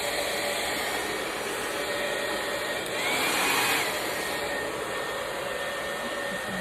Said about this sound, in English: Then I'm gonna take my dryer and I'm gonna put it on low airflow,